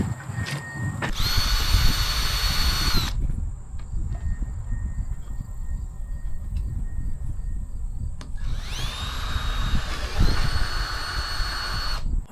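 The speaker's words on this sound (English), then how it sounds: "we'll move this out of the way so that we can drill our holes and get ready to mount it" Power drill boring mounting holes for a Motorguide Xi5 trolling motor, two loud high-pitched whirring bursts at the start and end with a quieter background hum between them.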